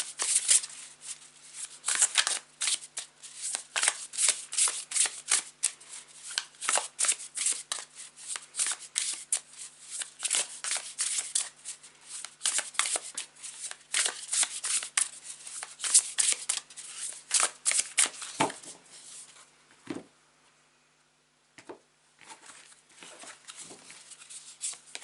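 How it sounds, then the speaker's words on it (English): A deck of tarot cards shuffled continuously for over twenty seconds in dense, rapid riffles and slides, close and crisp, with a brief pause near the end before a few more taps. "take a couple of deep breaths whilst I shuffle it"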